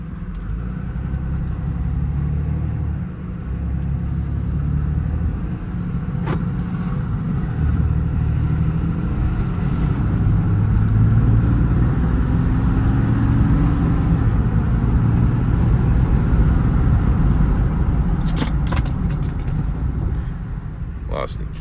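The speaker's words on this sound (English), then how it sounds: "Truck drives great, has plenty of power." A 2022 Ram 5500 crew cab 4x4 mechanics truck with a Summit service bed and 108k miles drives along, its steady engine and road rumble continuous throughout, with occasional light clicks and rattles.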